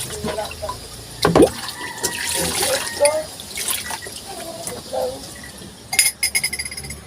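Water runs and splashes at a sink during toothbrushing, with clinks of glass or utensils and brief knocks, close by; faint voices murmur underneath.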